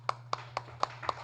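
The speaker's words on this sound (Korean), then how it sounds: "오, 이럴 땐 박수." Five slow, evenly spaced hand claps ring out close and crisp over a faint steady hum, with no voices.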